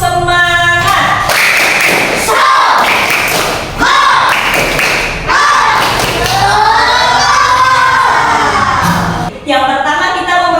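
A classroom of children performs the rhythmic tepuk semangat clapping chant, loud bursts of patterned claps and thumps mixed with shouted, chanted voices, close and energetic.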